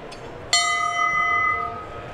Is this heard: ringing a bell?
yes